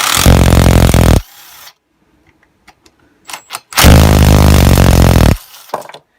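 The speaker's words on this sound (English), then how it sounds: "So I'll use the impact for that." Impact wrench taking the exhaust off a Kawasaki hedge trimmer, two loud sustained bursts of about a second each, close by, separated by a quiet gap with small clicks and handling noises.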